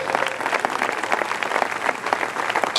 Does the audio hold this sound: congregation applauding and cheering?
yes